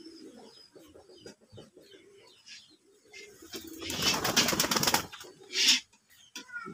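Domestic pigeons coo softly in a loft, with low murmuring calls, and a burst of wing flapping or scuffling near the middle.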